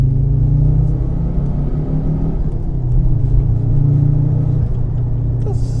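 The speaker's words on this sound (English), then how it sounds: "The 20 valve turbo does sound nice." Fiat Coupe fitted with a Lancia Delta 20-valve turbo engine running nearby, a loud steady low rumble and hum with slight swells in revs, no talk over it.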